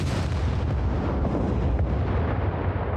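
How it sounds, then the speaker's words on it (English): A loud, sustained explosive rumble from an explosion in the survival game SCUM, heavy low boom filling the whole moment with broadband crackle and no talking. "we heard an explosion."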